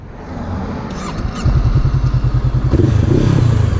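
Motorbike fitted with a Blackmore exhaust, hot from a ride, starting up with a clattering crank and then settling into a loud, close, lumpy idle with a steady pulsing beat.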